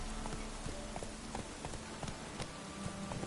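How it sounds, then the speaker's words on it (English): Horse hooves clip-clop in a steady rhythm in the video game Witcher 3, distinct hoof strikes repeating over a constant noisy ambient bed, moderately close, with no talking. "Fucking horse is doing my head in."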